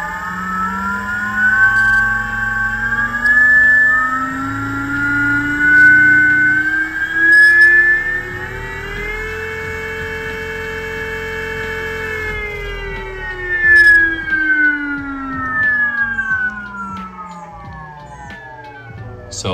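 An ME1507 electric motor runs unloaded on a Kelly KLS IPS controller, a steady rising and falling electric whine with layered harmonics that climbs in pitch as throttle increases, then holds and winds down, loud and close.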